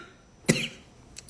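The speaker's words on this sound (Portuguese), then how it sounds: "tosse." A single sharp cough bursts out in a quiet room, followed by a faint shorter sound a moment later.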